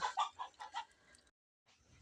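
Fighting-breed hens cluck in a quick series of short, close calls, then a brief silence before faint farmyard noise resumes.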